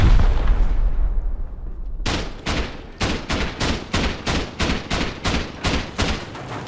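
Explosive ammo shots fired at a hatch in the survival game Rust: after a roaring opening, a rapid string of about a dozen loud, evenly spaced blasts, close and sharp.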